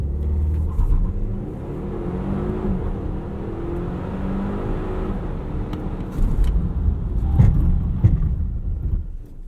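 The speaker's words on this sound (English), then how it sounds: "Let's try a little launch and all-wheel drive" Engine note of a 2018 Volvo XC60 T8 plug-in hybrid building steadily through an all-wheel-drive launch from the cabin, a loud continuous surge that swells further near the end.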